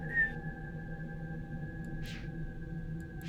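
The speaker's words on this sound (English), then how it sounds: "we get a subtitle that says Whistling Rock." A whistling rock in the video game Myst 3 gives a steady, sustained tonal whistle that holds throughout over a low ambient rumble, with a couple of soft breathy gusts.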